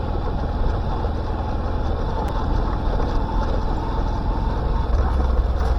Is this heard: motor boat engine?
yes